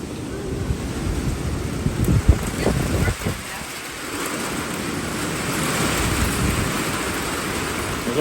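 A severe spring storm in southeast Ohio brings rain and gusting wind in a continuous heavy wash, with a few louder low rumbles or thumps early on while people talk over it.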